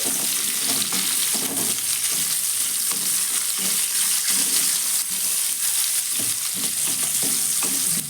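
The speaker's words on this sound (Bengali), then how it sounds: "পেঁয়াজটা দেওয়ার পর পেঁয়াজটাকে ভেজে নিতে হবে" Onions sizzle and crackle in hot oil in a wok, a loud, steady hiss with occasional stirring scrapes, close up and with no one speaking.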